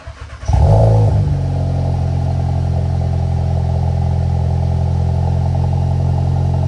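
A car engine cranks and catches, settling into a loud, steady idle that drones on close by for several seconds.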